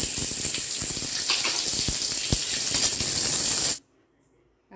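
Steady, loud sizzling hiss of onions sautéing in a hot pan for mutton kulambu, with faint scraping clicks, cutting off abruptly near the end.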